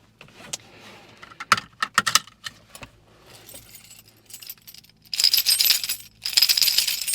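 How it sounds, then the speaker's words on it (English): Apartment keys jangle and clatter in several bursts, metallic shaking that turns louder and steadier near the end, heard up close with no voices. "My motherfucking apartment keys, goddammit."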